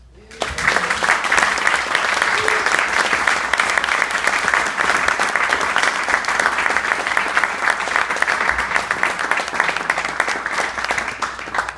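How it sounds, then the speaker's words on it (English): Loud, sustained applause from a Sunday Assembly audience in Los Angeles, rising quickly at the start and holding a dense, even roar of many hands clapping to the end. "please keep that applause going"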